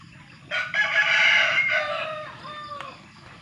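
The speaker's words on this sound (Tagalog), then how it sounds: "maraming manok" A rooster crows once, loud and close, its long call rising then trailing off, with faint clucking chickens around it.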